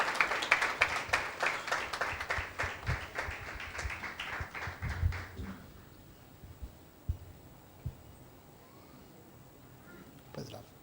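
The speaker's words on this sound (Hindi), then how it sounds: "और एक जोरदार ताली देते हैं परमेश्वर की महिमा के लिए।" A church congregation bursts into loud, sustained applause that fills the first half, then fades away, with scattered claps, faint voices and a thump or two trailing off into quiet room hum.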